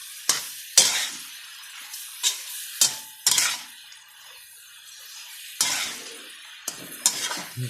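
A spatula scrapes and clanks in a wok as chicken with eggplant and holy basil is stir-fried, with sharp metallic strokes at an irregular rhythm over a soft sizzle, close and alone.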